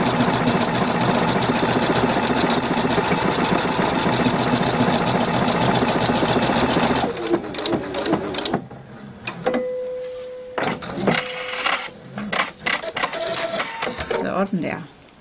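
A sewing machine stitching embroidery for a handmade bracelet runs loudly and continuously with a dense mechanical whir, then stops and gives way to scattered clicks, handling noises and short tones.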